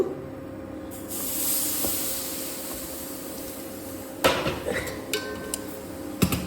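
Milk is poured slowly into hot semolina fried in ghee for sujir payesh, setting off a broad sizzling hiss that swells and settles, followed by a few clinks of a utensil against the pan.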